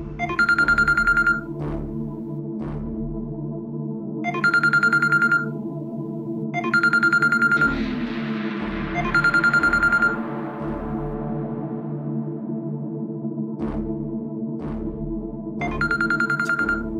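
An outgoing phone call rings back in repeated electronic tone bursts about every three seconds over steady background music, loud and clear, with no voices.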